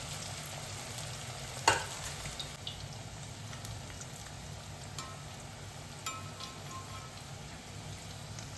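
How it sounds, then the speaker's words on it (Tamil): Onion bonda batter frying in hot oil in a tea-stall style home kitchen, a steady soft sizzle and crackle throughout with a brief louder spatter as pieces drop in, no talking. "எண்ணெய் சூடானதும் நம்ம ஒன்று ஒன்றா போட்டுக்கலாம்"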